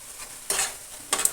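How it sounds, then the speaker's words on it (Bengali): Spice paste for a cabbage dish is stirred and fried in oil, with two short scraping, sizzling strokes heard close by over a quiet background. "মশলাটা একটু ভালো করে কষিয়ে নেব যতক্ষণ না তেলটা ছেড়ে আসছে"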